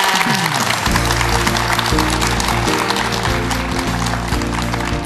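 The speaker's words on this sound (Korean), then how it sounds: "김광식 교수님께 다시 한번 큰 박수 부탁드립니다" A studio audience at a televised lecture applauds a philosophy professor, producing a dense, continuous wash of clapping that runs throughout under loud, sustained music.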